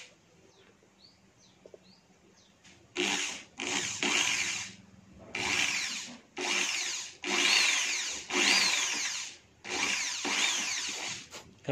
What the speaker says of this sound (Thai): ลองใส่สว่านเข้าไปแล้วก็ให้สว่านช่วยหมุนดีกว่าครับ